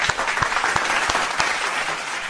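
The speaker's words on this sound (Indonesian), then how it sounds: "Tepuk tangan buat Pak Zulkarni Diselian." Villagers applaud Pak Zulkarni, the village head of Desa Salang Alas, with a steady patter of hand claps. A few sharper individual claps stand out now and then before the applause tapers slightly toward the end.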